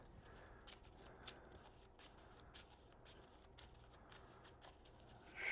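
A deck of cards from a deck-building board game is shuffled in quick, crisp riffles repeated several times, faint and close with no talking.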